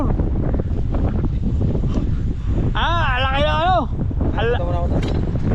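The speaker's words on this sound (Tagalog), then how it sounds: "lumakas yung hangin" Strong wind buffets the microphone in a constant rough rumble on a fishing spot in Saudi Arabia, while a voice speaks briefly in the middle and again near the end.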